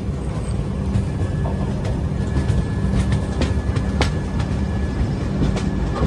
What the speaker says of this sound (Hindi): हमारी जो ट्रेन है वो टपरी जंक्शन से निकल चुकी है